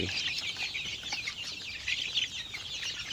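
Five-week-old Hy-Line Brown laying chicks cheep and cluck continuously nearby, a busy chorus of high, overlapping peeps with no talking.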